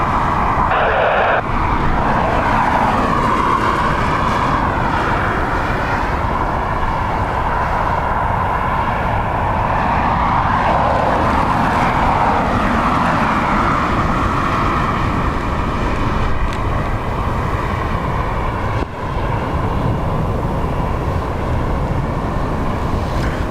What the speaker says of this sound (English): This Ryanair is coming in from Fiumicino